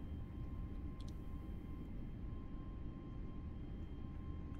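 Twin engines of an A320 airliner at full takeoff power in the MSFS 2020 flight simulator, a steady, dense low rumble and roar that holds level throughout with no talking.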